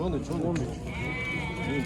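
A goat bleats in short wavering cries close by at a livestock market in Kara-Balta, Kyrgyzstan, repeated a few times, with a higher tonal bleat joining partway through.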